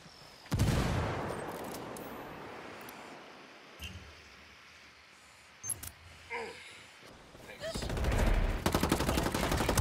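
In the tactical shooter Ghost Recon Wildlands, a burst of close gunfire opens, followed by a few scattered shots and thuds, including a grenade blast, then a sustained rattle of rapid automatic fire toward the end.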